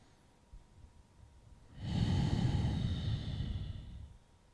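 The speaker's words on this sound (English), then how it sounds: "Maintain that slow, controlled breathing." A single slow, controlled breath during a yoga relaxation, a soft airy exhale swelling for about two seconds close to the microphone, then fading in a quiet room.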